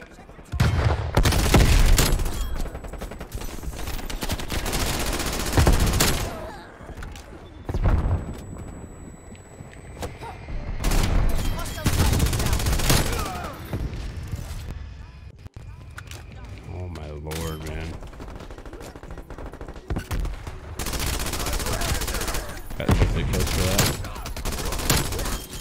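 Strafe run airstrike gunfire in Call of Duty Black Ops Cold War: loud, dense bursts of rapid shots and booming impacts in repeated waves, with a player talking over the game sounds.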